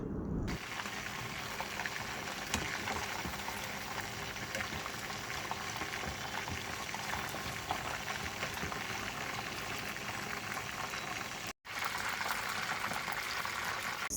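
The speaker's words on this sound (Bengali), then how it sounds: "আর দু এক মিনিট সময় নিয়ে ভেজে নিব চিকেনগুলোকে" Spicy chicken pieces fry in hot oil in a steady, dense bubbling sizzle that runs on without a break for over ten seconds, close and even, with only a momentary dropout near the end.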